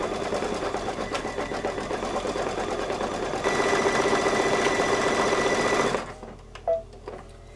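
A Kimberbell Christmas ornament is stitched on an embroidery machine working a satin stitch, a fast steady mechanical whirr and needle chatter that stops abruptly near the end, followed by a few faint clicks.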